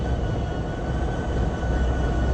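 A train in the Trainz 2022 video game rolls along a Midwestern line, making a continuous low rumble and rattle of wheels on track, steady and close with no talk.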